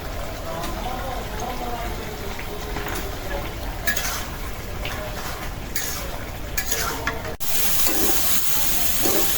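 Chicken do-piyaza with cumin powder fries in a pan, a close, continuous sizzle broken by scraping and clinking of a spoon against the pan, with a muffled voice in the background.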